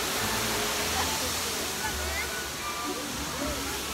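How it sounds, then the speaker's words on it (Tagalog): A waterfall at Bolinao, Pangasinan roars as a steady, dense wash of rushing water, heard up close and unbroken for a few seconds, with faint voices beneath. "Nasa falls na kami!"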